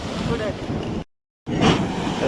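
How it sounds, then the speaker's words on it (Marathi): Ocean surf roars on a windy beach at Harihareshwar, with heavy wind buffeting the microphone, a loud rushing wash that cuts out briefly before resuming. "लाटा आहे समुद्राला"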